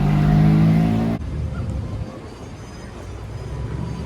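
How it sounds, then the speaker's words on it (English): A Ferrari sports car passes on an evening street in Laguna Beach, California, its loud engine roar close and strong for about a second before cutting off, followed by fainter road and traffic noise. "Ferrari."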